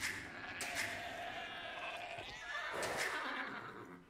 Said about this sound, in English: I have a feeling there's sheep there